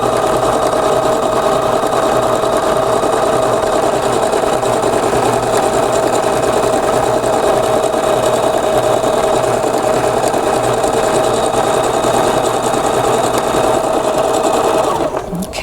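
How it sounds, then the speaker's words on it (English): A Pfaff Passport 2.0 sewing machine runs continuously as it sews a line of quilting stitches, a steady close mechanical whir with rapid needle rhythm that holds for the full stretch before stopping at the end. "And I'm going to sew my second line of stitching."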